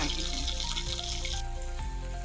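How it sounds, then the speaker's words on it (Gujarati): Curry leaves, cumin and chillies sizzle and crackle steadily in hot oil with sesame seeds in a kadai, a dense close frying hiss that eases slightly partway through, no voices. "મીઠો લીમડો છે અને જીરા મરચાં આપણે આનો વઘાર કરીશું"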